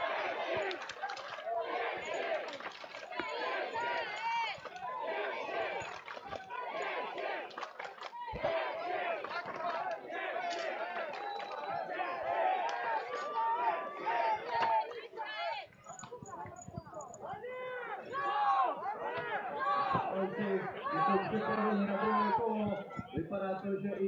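A crowd at a Battle of the Nations 2016 medieval combat bout between the Czech Republic and Israel roars and chants loudly and continuously, cheering for the Czech side, with a commentator talking over it.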